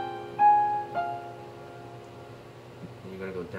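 Piano-like notes of a video game's ending theme, left and right hand parts played together: a bright note struck near the start, another at about one second, then a lower cluster near the end, sustained and moderately quiet with no talking.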